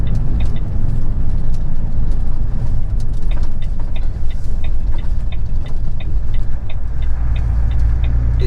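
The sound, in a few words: HGV truck driving on road, engine running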